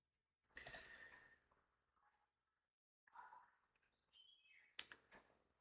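A computer mouse gives a few faint, close clicks separated by silence: a small cluster near the start, a soft tap midway and another crisp click near the end.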